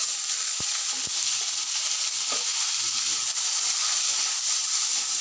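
Light drizzle falls outdoors at a family home, a steady broad hiss of fine rain with a couple of sharp drip ticks early on, continuous and fairly loud, no voices.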